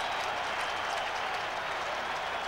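Stadium crowd applauding a departing college football player at a 1989 Tennessee versus Ole Miss game, a dense, steady roar of clapping that fills the space without a break.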